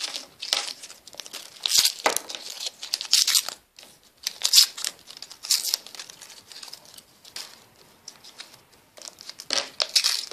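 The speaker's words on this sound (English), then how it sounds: "So I'm just gonna unwrap these because I think these are meant to be quite good." Bubblegum wrappers crinkle and rustle up close, with bursts of sharp crackling paper sounds coming in quick, irregular handfuls and no voices.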